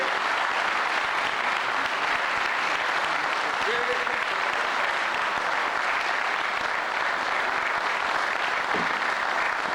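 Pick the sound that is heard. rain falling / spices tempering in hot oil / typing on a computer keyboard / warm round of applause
warm round of applause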